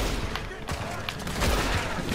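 Gunfire in the Western shooting game Red Dead Online, with several sharp shots and booming reports scattered across a busy in-game background, fairly loud.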